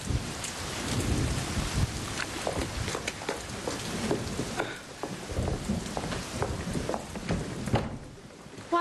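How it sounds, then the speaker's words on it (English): Heavy rain pours onto surfaces with rolling thunder rumbling underneath, a dense steady storm with no voices in this stretch. "Come on, out of the rain."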